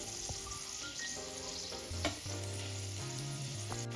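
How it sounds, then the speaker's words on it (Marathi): Chinese pakodas deep frying in hot oil until golden, kept moving so they don't burn: a steady, close sizzling hiss runs throughout, with occasional faint clinks and stirring noises and no voices. "इथे आपल्याला छान कलर येईपर्यंत तळून घ्यायचे आहे पकोडे"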